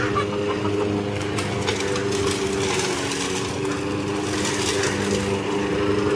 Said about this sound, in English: Let's see if you can even hear me over the lawnmower.